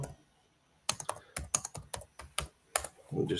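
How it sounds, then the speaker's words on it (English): Quick, sharp keystrokes on a computer keyboard tap out a message in an irregular rhythm close to the microphone, with a faint voice starting up right at the end. "I'm just typing to my friend Nicodemus here a message"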